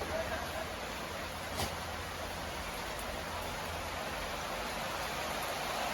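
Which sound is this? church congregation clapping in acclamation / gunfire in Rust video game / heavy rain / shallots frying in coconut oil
heavy rain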